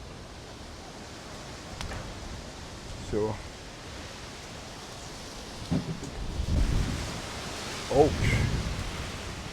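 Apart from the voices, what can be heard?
strong wind blowing outdoors before a storm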